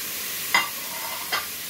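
Chicken sizzles in a hot pressure cooker, a steady loud frying hiss with two brief louder bursts of stirring or spattering about a second apart.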